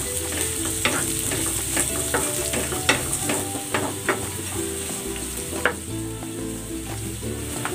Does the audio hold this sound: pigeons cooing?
no